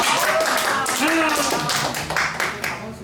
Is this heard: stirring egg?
no